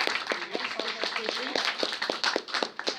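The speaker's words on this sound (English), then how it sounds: "Round of applause for our first guest." A live audience claps for a guest taking the stage at a talk on cookery programmes, a burst of scattered, uneven handclaps with voices murmuring underneath.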